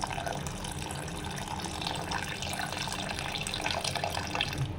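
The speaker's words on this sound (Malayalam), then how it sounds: "അപ്പം നമുക്കതിലേക്ക് പുളി പിഴിഞ്ഞത് ഒഴിക്കാം" Squeezed tamarind water poured into a pot of onion sambar makes a steady, continuous liquid rush with a splashy texture, close by, lasting throughout with no talk.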